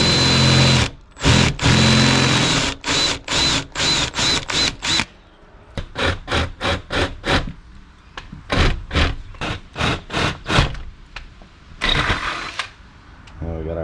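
Power drill boring holes for a storm door installation, repeated short whirring bursts separated by pauses, loud and close, with some quieter clicks between runs.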